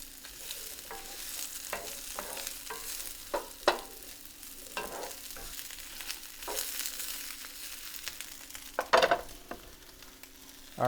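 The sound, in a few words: garlic cloves and onion cooking in a pot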